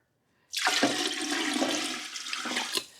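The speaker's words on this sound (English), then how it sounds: "The rest of it I'm going to fill up with water." Water rushes steadily from a tap into a very large cooking pot, a loud, continuous splashing stream that starts abruptly and runs for a few seconds with no talking.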